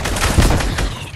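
A SCAR assault rifle in Fortnite fires a rapid, dense string of shots that runs throughout, loud and close, with a short punchy hit partway through.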